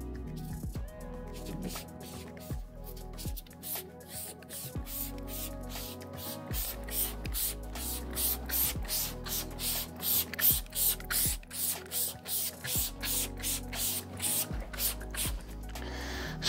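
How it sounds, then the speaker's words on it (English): Rapid, repeated hissing bursts of a trigger spray bottle spraying cleaner onto boat clear vinyl windows, dozens of quick sprays in a steady rhythm, close and fairly loud. "And we're gonna spray the whole clears."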